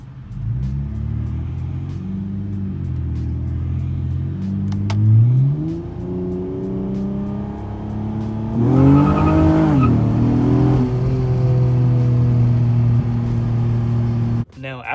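Honda Accord coupe engine revving under full throttle in first gear, a rising rumbling roar that climbs in pitch, drops briefly at a gear change and then holds steady, loud and close.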